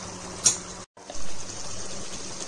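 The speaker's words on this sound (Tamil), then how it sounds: "இப்போ இதில் பாதி எலுமிச்சம்பழம் புளிஞ்சு ஊற்றுறோம்." Half a lemon is squeezed and its juice poured into chicken biryani with yogurt and tomato, giving a short trickle and splash, a brief gap, then a softer stream of liquid, close and quiet.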